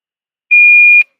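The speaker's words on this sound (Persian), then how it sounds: "این صدای 440 هرتزی بود." A single loud, pure electronic test tone sounds for about half a second, then cuts off with a slight click, with silence before and after.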